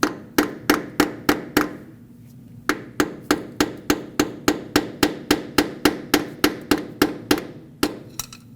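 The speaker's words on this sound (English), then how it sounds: "I'm going to take a flathead screwdriver now, put it right up against the base of the sensor, tap this with a hammer," A hammer taps a flathead screwdriver braced against the base of a camshaft position sensor on a 2005-2021 Nissan Frontier 2.5L four-cylinder: a steady run of about twenty sharp, evenly spaced metallic taps, close and loud, with a brief pause early on.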